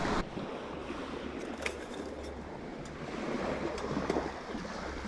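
Ocean surf washing onto a shore beside a twig-stove grilling spot, a steady broad wash of breaking water with wind noise on the microphone, continuous and fairly close with small swells in loudness.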